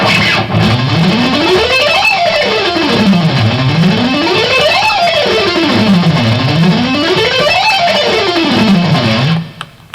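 Fast electric guitar three-note-per-string rock sequence played up to tempo, a dense, loud, distorted run sweeping up and down the neck in repeated waves, continuous and close with no talking.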